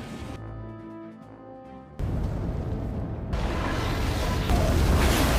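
A bomb thrown onto a snow pile bursts in a film scene, a sudden deep boom cutting off quiet music, then a loud, sustained roar and rumble that swells toward the end.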